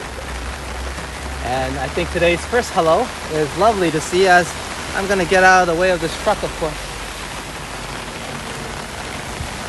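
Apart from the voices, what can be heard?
rain falling on the street in Phuket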